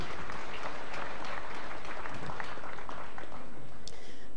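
An audience claps hands in applause at a church gathering, a loud, steady wash of many overlapping claps lasting a few seconds.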